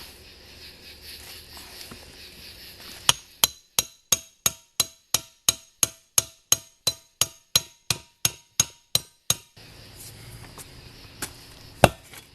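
A big hammer strikes the rim of a 1982 Honda ATC185s three-wheeler during restoration. After a quiet start come about seventeen loud, evenly spaced metallic blows, then a pause and one final heavy hit.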